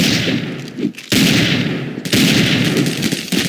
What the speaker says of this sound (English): Stop shooting at each other and just get out.